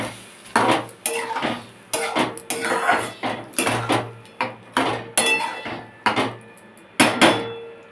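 Chana dal being stirred with a spoon in a metal pressure cooker pot after hot water is poured in, giving repeated loud scraping clinks in a steady rhythm of about one stroke per second, close up with no talking.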